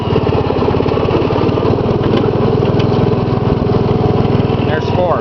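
Gravely 810 garden tractor with a Kohler cast iron single-cylinder engine running steadily, a loud, close, even thumping drone throughout without pause.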